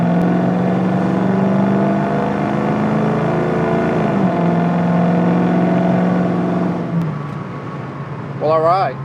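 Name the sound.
1966 Ford Mustang Fastback engine revving on test drive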